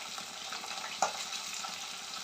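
Finely chopped large onion fries in hot oil with garlic and green chilli while it is stirred, giving a steady soft sizzle with one small clink from the spoon; quiet and close, with no talking.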